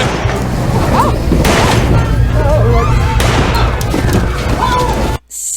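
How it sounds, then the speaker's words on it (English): Loud, chaotic bursts of gunfire in a restaurant resemble a played video recording: dense, crashing noise with shouting voices throughout, ending in a sudden drop. "So this argument leads to gunfire in the restaurant."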